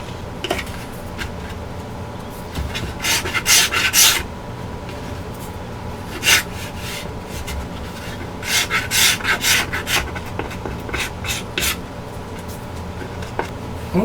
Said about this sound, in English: I have this little paint scraper, which just seems to just work great for this.